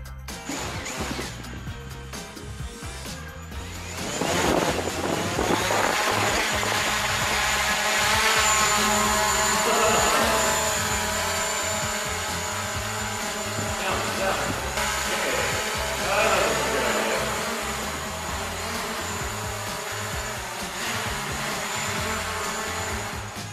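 A DJI Mavic Pro drone carrying a Gear 360 camera flies with a steady, whining propeller buzz that runs continuously and fairly loud, with some wind and handling noise and a brief rise in intensity early on.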